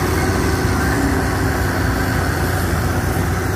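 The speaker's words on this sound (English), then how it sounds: "That's a serious tractor." A Ford 8970 tractor fitted with a larger Holset HX50 turbo runs hard during a pulling test, giving a loud, continuous, heavy low engine roar with no break and no voices.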